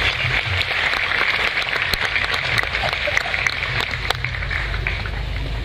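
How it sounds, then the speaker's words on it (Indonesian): An audience gathered for a talk by Cak Nun gives a round of applause, a dense, fairly loud patter of clapping that runs evenly throughout without pause, with a low rumble of room noise underneath. "tepuk tangan untuk beliau."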